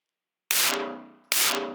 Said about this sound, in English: Let's do 2 shots, so then that way we're dealing with the recoil